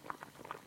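Soup bubbles in a large cauldron in a smoky kitchen, a quiet, brief burst of soft popping and gurgling bubbles at low level.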